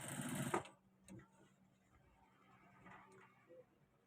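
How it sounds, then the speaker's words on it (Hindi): A sewing machine stitching trouser fabric runs in one short, close, rattling burst at the start, then stops, leaving near silence with a few faint taps and handling noises. "यहाँ से हम सिलाई शुरू करेंगे"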